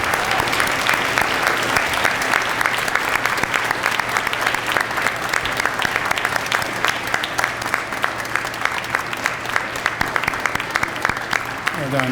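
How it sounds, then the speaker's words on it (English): An audience claps steadily and loudly at a Veterans Day ceremony, a dense, even applause that holds for about twelve seconds without a break. "Applause, please."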